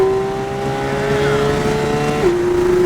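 A Porsche GT race car at Kansas Motor Speedway roars at full throttle, its engine note climbing steadily and loud with a brief drop near the end as it shifts.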